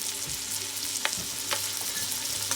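Seasoned, peppered meat sizzles and fries steadily in a pan while browning on all sides, with a few soft scrapes and clicks from stirring, close-up with no talk.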